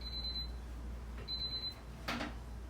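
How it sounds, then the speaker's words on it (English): A kitchen timer beeps in two short rapid bursts of high electronic chirps, close and fairly clear over a low steady background hum, with a brief clatter near the end. "Beep, beep, beep, beep, beep."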